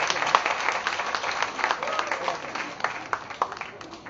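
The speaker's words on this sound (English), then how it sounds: "We can afford to have a bigger round of applause for him." An audience at a book launch applauds a 19-year-old author, a scattered clapping that thins and rises again, with a few crisp nearby claps over the general patter.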